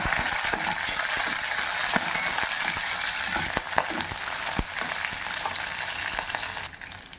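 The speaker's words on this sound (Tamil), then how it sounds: "இஞ்சி நல்லா வதங்கின பிறகு தேங்காய் துருவலை வறுத்து எடுத்துக்கலாங்க" Grated coconut and a sprig of curry leaves roast in a pan with ginger for chutney, giving a steady dry sizzle with frequent scraping and clinking of a spatula stirring against the pan.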